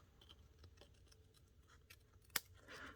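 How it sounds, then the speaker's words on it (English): A few quiet scissor snips cut through paper, with one sharp louder snip near the end, in a quiet room. "I think I'll cut that with scissors."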